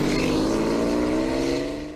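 Porsche 996 4S engine running at the start of a road test, a loud close throaty drone that holds steady before easing off at the end.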